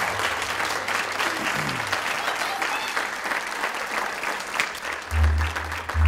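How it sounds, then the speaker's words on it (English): Audience applause at a college beauty pageant, steady sustained clapping from a crowd filling the whole stretch, with a low hum entering near the end. "Give them a round of applause,"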